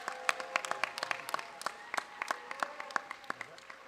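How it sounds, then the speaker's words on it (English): Scattered, moderately quiet clapping from a modest awards-night audience applauding teachers, with distinct individual claps rather than a dense roar. "So let's give them a big round of applause."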